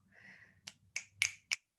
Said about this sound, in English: I'm snapping my fingers over here.